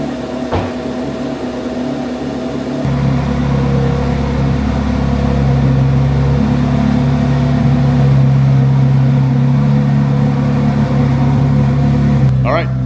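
A 2024 Corvette C8 Z06 3LZ runs loudly just after start-up, its engine settling into a rough, droning high idle with steady strong tones that hold for over ten seconds while someone talks.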